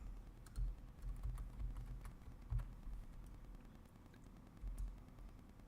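Steady typing on a computer keyboard, close and quiet, with soft irregular clacks and a few heavier keystrokes over faint background hiss.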